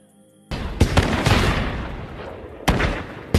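Gunfire rings out during a nighttime siege of a house in a film scene: several sharp, loud shots in an irregular burst, separated by brief gaps with a lingering rumble in between.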